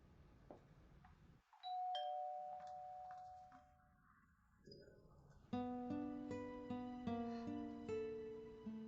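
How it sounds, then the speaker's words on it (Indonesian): A doorbell chimes at a house door, first a single tone and then a clear, fairly loud run of repeated bell-like ding-dong notes in a quiet room with no talking. "Han Xiu ada yang menekan bel pintu."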